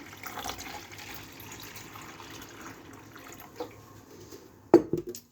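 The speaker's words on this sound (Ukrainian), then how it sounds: "додаємо воду" Water pours briefly into a glass of milk-and-coffee cocktail mixture, a soft trickle followed by a louder splash near the end, close by and with no talking.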